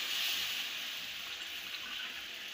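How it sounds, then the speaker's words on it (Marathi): Water poured from small glasses into a pan of roasted gram flour for Maharashtrian zunka, a soft hissing, gurgling wash that is fairly faint and steady for a couple of seconds. "2 छोटे ग्लास पाणी टाकणार आहे."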